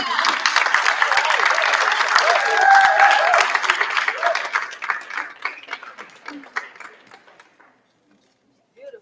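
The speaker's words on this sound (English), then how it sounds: "how about another round of applause for Ms. Jones?" Banquet audience applauding Ms. Jones at the Freedom Fund Banquet, close, dense clapping mixed with a voice that gradually thins and fades to near silence, then a brief final sound.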